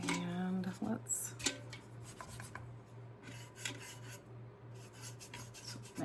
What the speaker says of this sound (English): make sure I got that rubbed in so there's no excess sitting there, which I can rub it with a rag here in a little bit too